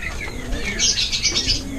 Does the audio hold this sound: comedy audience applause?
no